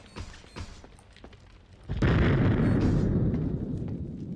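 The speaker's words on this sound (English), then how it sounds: "That sounded like an explosion." A loud explosion in the video game Project Eden bursts in abruptly partway through and rolls on as a sustained, heavy rumble that slowly fades, following a few quieter game sounds before it.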